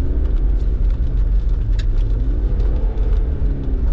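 A car with a manual transmission drives along with a loud, steady low engine rumble heard from inside the cabin, no distinct gear change standing out.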